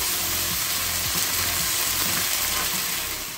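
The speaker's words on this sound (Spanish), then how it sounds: "Estamos moviendo para que ahí todos los ingredientes vayan absorbiendo" Split pea stew ingredients stirred in a pan give a steady, close sizzle with faint scraping, dense and continuous, easing off slightly at the end.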